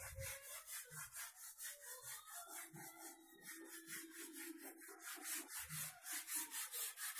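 A gun stock for a Eupro air rifle is sanded by hand, with rhythmic back-and-forth rasping strokes that are close and even, repeating about twice per second with no voices.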